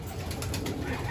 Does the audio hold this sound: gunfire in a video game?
no